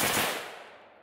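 Zastava M90 rifle shot: a single loud report decaying into a fading tail over about a second, heard alone.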